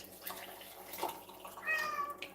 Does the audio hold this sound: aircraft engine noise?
no